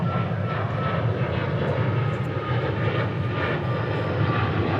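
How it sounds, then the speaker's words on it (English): Boeing 737 MAX 8 jet taxiing out at DFW airport, a steady broadband engine roar and rumble heard at a distance without pause. "737 MAX 8 coming out."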